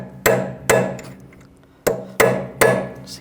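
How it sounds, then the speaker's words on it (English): Five sharp, ringing hammer blows on a metal punch peening an axle nut on a 2006-2010 BMW 550i, close by: two in quick succession, a pause, then three more. "Just hammer that down like that."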